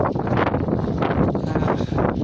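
Gusting wind roars and buffets around a parked motorhome in the UK. It is loud and close, a broad rushing noise that swells and eases the whole time, with no voices.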